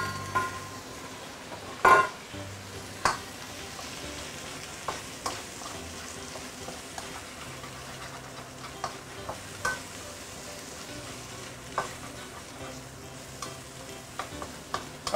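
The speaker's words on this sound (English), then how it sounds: "I'm going to stir fry this until it is almost cooked." French beans stir-fry in garlic-infused oil in a wok: a low, steady sizzle broken by repeated clanks and scrapes of the spatula, with one louder knock near the start.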